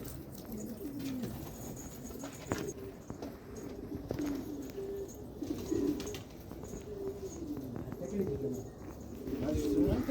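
Pigeons coo in soft repeated low phrases during a bird-trapping outing, fairly close but quiet, with some handling noises and faint background voices.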